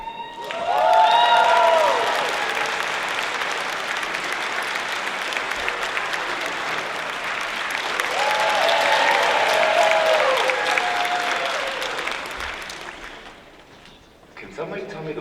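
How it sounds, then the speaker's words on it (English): Audience applause at a cosplay contest at Michigan Comic Con 2018, a steady roar of clapping from a crowd lasting most of the stretch and swelling again midway, with voices and cheers mixed in before it tapers off near the end. "why all of you guys started applauding some more"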